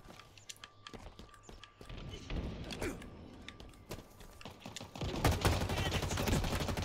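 Pistol fire in the shooter game Halo Infinite, with rapid cracking shots in irregular bursts that grow denser and louder toward the end, mixed with other game sounds.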